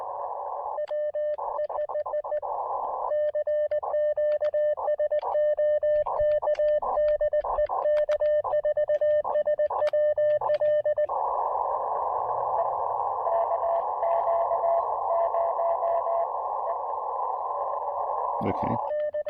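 Elecraft KX2 transceiver on a foggy summit activation, giving off a steady loud sidetone and keyed Morse beeps, then a very faint, barely audible signal buried under a constant hiss of receiver noise.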